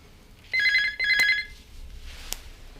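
A telephone rings indoors in two loud, close electronic trills in quick succession, then a short knock follows in a quiet room.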